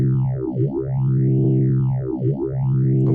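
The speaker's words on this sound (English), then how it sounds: "So with this phaser setting here," Through the phaser on a Boss RC-505 MK2 looper, a sustained tone sweeps up and down in slow, deep, siren-like arcs, two full cycles, loud and steady with no talking.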